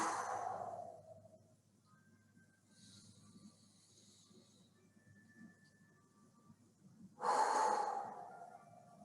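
Breathing during a full-body stretching exercise: a strong exhale at the start and another sharp, loud breath near the end, with quiet room tone and faint tones between, close and without talk.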